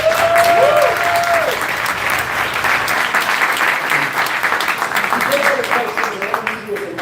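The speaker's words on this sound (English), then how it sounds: "Round of applause for Shomri." A live crowd in Brooklyn gives a round of applause, dense clapping that runs strongly for several seconds and slowly thins, with tonal sounds and a voice briefly heard over it.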